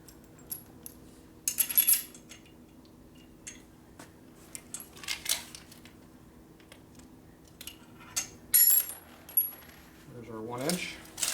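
Big heavy radiator washers for a 1972 Harley-Davidson 1000cc Ironhead Sportster rebuild clink and jingle as they are handled, with scattered light metallic taps and a few louder clusters of clanks against a quiet workshop background.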